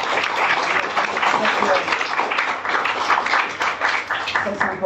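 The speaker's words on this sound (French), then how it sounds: "On va applaudir l'association de celle qui nous reçoit aujourd'hui très fort." An audience at a Marseille lecture gathering claps loudly and steadily for a hosting association, with voices mixed in beneath the dense applause.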